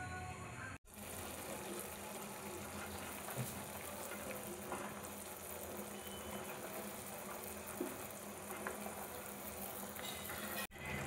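Rasmalai dumplings simmer in a cardamom sugar syrup: a faint, steady bubbling hiss of gently boiling liquid, broken by a couple of brief clicks.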